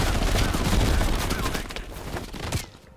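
Heavy gunfire in the Call of Duty: Black Ops Cold War campaign mission Fracture Jaw, set in Vietnam: rapid, loud automatic bursts in a continuous fusillade that ends abruptly.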